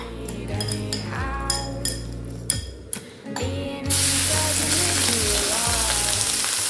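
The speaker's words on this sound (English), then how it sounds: "Sear the shrimp 2 to 3 minutes, or depending on your shrimp size" Marinated shrimp hitting hot oil in a wok for pineapple fried rice: a few metallic clinks and utensil knocks, then a sudden loud, sustained sizzle that fills the rest.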